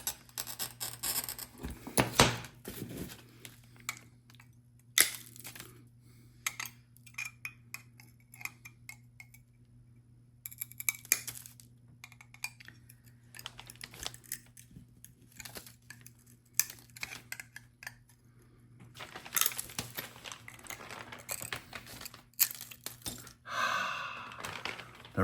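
Glass is scored and broken into a rainbow cut on a lightbox: faint scattered ticks, scratches and sharp cracks come in irregular bursts, with quiet pauses between them, and a brief rustle near the end.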